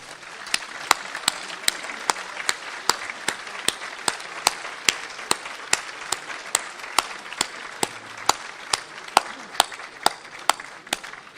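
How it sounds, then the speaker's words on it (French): Applause from an audience at a town's New Year greetings ceremony, honoring the mayor's team: a steady patter of many hands with sharp individual claps standing out throughout, moderately distant and without talk. "en vous demandant d'applaudir cette équipe"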